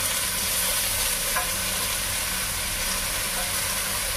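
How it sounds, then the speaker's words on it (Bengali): Onions and potatoes with chilli fry together in a pan, giving a steady, even sizzle that holds at a constant level throughout with no voices. "তো পেঁয়াজটা একটু ভেজে নেই, আলু পেঁয়াজ সব আমি একসঙ্গে ভেজে নেবো।"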